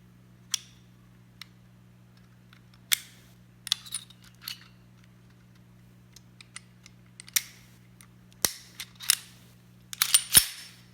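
Metal parts of a Kimber Micro 9 pistol clack and tick as it is taken apart on a bench and the barrel is slid out, sharp isolated clicks and scrapes scattered over a steady low hum, no talking.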